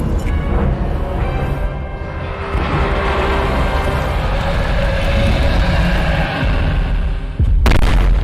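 A big explosion rips through a fortress in the video game Middle-earth: Shadow of Mordor, a loud continuous roaring rumble sustained for several seconds, with a sharp burst near the end.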